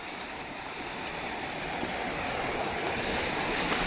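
Floodwater pours over a broken check dam in a continuous broad rushing roar that swells slightly louder over the moment, with no voices.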